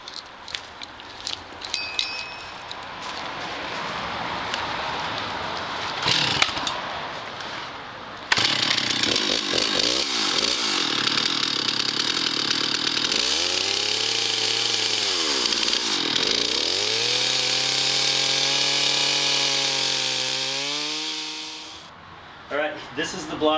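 Bandsaw cutting a block of burl wood, a loud steady whine with the blade note bending and dipping as it works through the cut, running for several seconds and then winding down, with talk and handling noise before the saw starts.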